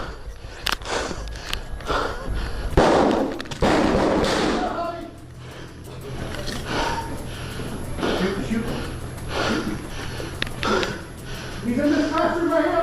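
Several sharp gunshots ring out inside a school building in Uvalde, booming and echoing amid muffled movement, with people talking throughout.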